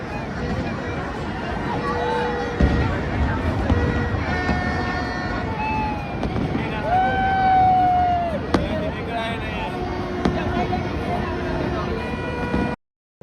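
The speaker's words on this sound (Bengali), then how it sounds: "তো চলুন একটু ফায়ার ওয়ার্ক দেখে আসা যাক।" Fireworks at the Twin Towers, KLCC, in Kuala Lumpur on New Year's Eve: scattered bangs and crackles at a distance, with whistling rising tones, beneath a busy crowd chattering and cheering nearby.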